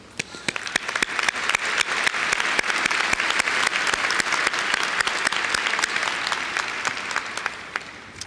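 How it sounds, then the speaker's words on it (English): Sustained audience applause fills a graduation ceremony at North Hennepin Community College, a dense, steady wash of many hands clapping loudly for about eight seconds before easing slightly at the end. "Please join me in applauding their efforts to reach tonight's ceremony."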